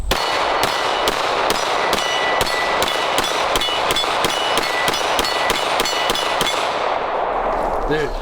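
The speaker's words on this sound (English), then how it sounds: "Starting with the Canik TP9 SFX." A Canik TP9 SFX pistol fires a long, evenly paced string of about seventeen shots at steel targets, each sharp report ringing with a metallic clang. The shots are loud and close, and no one speaks.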